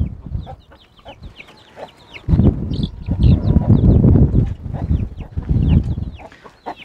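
Month-old Australorp and Sultan chicks peep in quick high bursts beside a mother hen clucking low and steadily, with the hen's calls growing louder and denser midway through.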